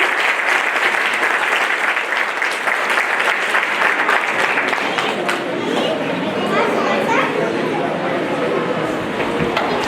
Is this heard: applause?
yes